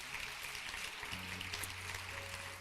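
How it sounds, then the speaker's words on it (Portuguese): A church congregation applauds during a morning service, a steady wash of clapping hands at a fairly low level with a sustained keyboard-like tone running underneath. "Você pode aplaudir ao Senhor bem forte?"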